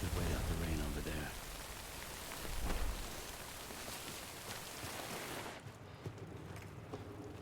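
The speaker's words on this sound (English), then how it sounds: "Just wait out the rain over there." Steady rain in the video game Death Stranding hisses loudly across the whole span, with some talking and game sounds underneath before the downpour cuts off abruptly near the end.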